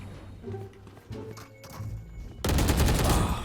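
Gunfire in the tactical shooter Valorant: a burst of loud shots erupts after a short exclamation and game noise, dense and sustained to the end.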